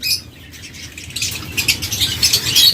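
Chirps and squawks from pet lovebirds and budgerigars fill a bird shop, some wing flutters among them, a steady busy chatter of small birds throughout.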